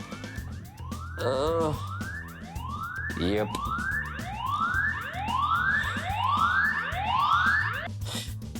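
A security camera siren repeatedly sweeps upward in quick rising whoops, loud and close, with a brief spoken word partway through.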